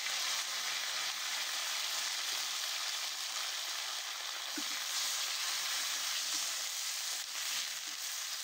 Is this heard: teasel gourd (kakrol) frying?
yes